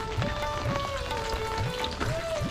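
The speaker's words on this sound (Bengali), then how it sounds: "আজকে ট্রেমেন্ডাস বৃষ্টি হয়েছে প্রচুর বৃষ্টি হয়েছে এখনও হচ্ছে একটু কমেছে যদিও" Steady rain falls over a rural village in Lalganj, West Bengal, after a heavy downpour, a dense continuous hiss with faint tonal calls and low thumps mixed in.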